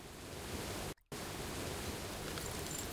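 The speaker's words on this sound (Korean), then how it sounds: "개울가 소리가 들리고, 자 저기 개울가집 맞죠?" Steady broadband rush of a flowing stream beside a riverside house in Kingdom Come: Deliverance, continuous and fairly loud with one brief dropout near the start.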